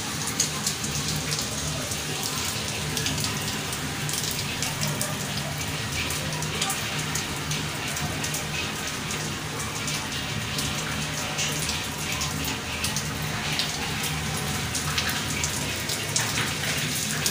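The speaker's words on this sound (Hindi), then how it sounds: "बरसात बरस रही है और परनालों से भी पानी निकल रहा है।" Heavy monsoon rain falls in Sehwan, with water gushing from roof drains: a loud, continuous splashing rush over the steady patter, with no voices.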